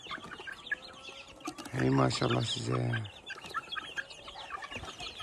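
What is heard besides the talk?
chickens and chicks clucking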